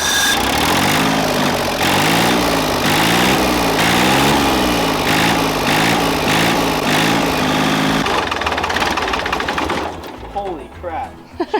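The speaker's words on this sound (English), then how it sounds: "There's gonna be a lot of motor in that little tractor." A small engine chugs loudly and steadily with a rapid, buzzing pulse, then sputters and cuts out near the end.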